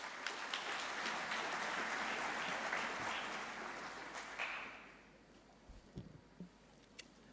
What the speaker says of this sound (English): One more round of applause for Her Excellency, the First Lady of the Republic of Kenya, Ma